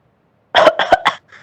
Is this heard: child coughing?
yes